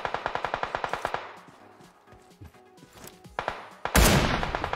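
Rapid bursts of machine gun fire from PUBG Mobile on the Erangel map, with an MG3 in play: a fast even rattle of about a dozen shots, then scattered distant pops and a loud burst near the end.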